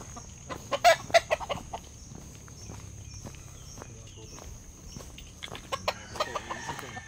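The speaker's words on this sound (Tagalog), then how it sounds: "Ang ganda ng mga manok" Chickens cluck and scratch around a farm lot in rural Tanay, Rizal, with a cluster of sharp nearby bird calls early on and more scattered clucks later, while people talk in the background.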